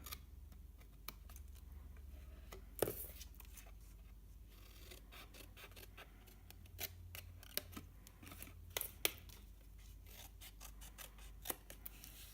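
Scissors snip through stiff cardstock in a series of sharp, crisp cuts, irregularly spaced, close by, with quiet rustling and handling between snips.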